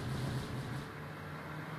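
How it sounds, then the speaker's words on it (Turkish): A car engine in a video game hums and revs faintly in the background, a steady, low drone without any voices. "Ara gaz veriyor."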